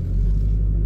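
A low, steady interior rumble from a car on the move fills the short stretch, loud and even with no voices.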